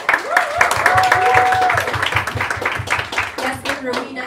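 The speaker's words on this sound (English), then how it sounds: "a big round of applause for all three of them." An audience at a panel discussion on fitness, health and nutrition claps for the three guests, a dense burst of applause that fades while someone speaks over it.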